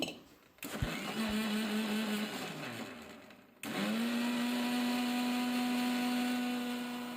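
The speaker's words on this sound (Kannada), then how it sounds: "ಈಗ ಫಸ್ಟು ಅದನ್ನು ಮಜ್ಜಿಗೆ ಕಡ್ಕೊಂಡ್ಬಿಡ್ತೀನಿ" An electric churner whirs loudly through curd as it turns it into buttermilk, cutting out briefly partway through and then spinning back up to a steady, high, droning whine close by.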